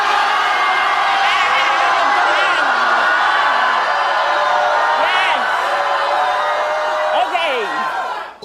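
An audience joins in a loud, sustained group scream and whoop, a dense crowd roar holding steady for several seconds with scattered individual yells rising above it before it fades at the end.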